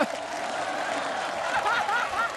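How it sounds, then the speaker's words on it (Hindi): A television studio audience claps continuously for a couple of seconds, with scattered cheering and whooping voices riding over the applause. "अरे जोरदार तालियां हो जाएं।"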